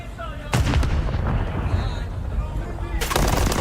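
Gunfire during a competitive FaZe Call of Duty round, with loud, sharp bursts of shots at the start and end and continuous battle noise between them, under an excited caster's commentary.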